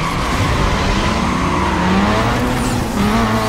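Race cars roar at full throttle with tire squeal in a drag race in Need For Speed Most Wanted on Xbox, a dense, continuous engine drone that stays loud and close throughout, with no talking.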